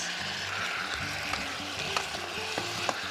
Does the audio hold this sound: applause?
no